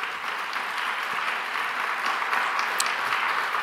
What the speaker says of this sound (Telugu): అందుకొరకు చప్పట్లు గట్టి కొట్టాలి మీరు